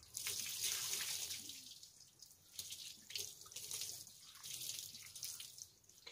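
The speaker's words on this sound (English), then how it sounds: "I gotta dump some water right here." Water pours and splashes steadily onto a mud-caked bicycle, a close, hissy stream that swells and eases in bursts over several seconds with no talking.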